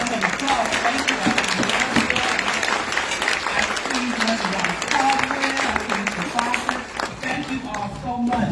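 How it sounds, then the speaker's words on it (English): Audience at a diversity and inclusion awards luncheon applauding elected officials, sustained clapping from a crowd while voices talk and call out over it throughout. "Let's give them a round of applause"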